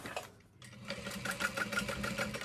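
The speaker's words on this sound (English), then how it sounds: "I'm just going to sew straight across there" A sewing machine stitches a woven label onto a fabric handbag, a brief pause, then a fast steady whirring hum with rhythmic needle clatter, close and alone.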